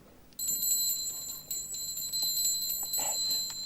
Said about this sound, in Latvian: Sēju pie kātiņa mazus zvaniņus, tā, jo naktī jau pludiņu neredz, un ja zivs pieķeras,